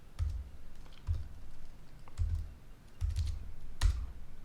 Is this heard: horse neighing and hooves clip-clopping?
no